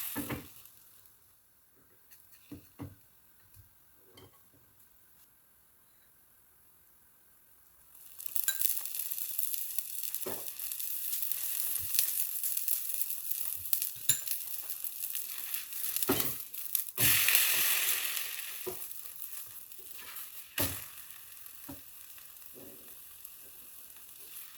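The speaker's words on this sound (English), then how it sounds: "Continue cooking the pancake for another minute until both sides are golden brown and cooked to perfection." An egg and onion pancake cooks in a pan. Quiet handling at first, then a loud, steady hiss of frying sets in and continues with occasional crinkly pops and scrapes.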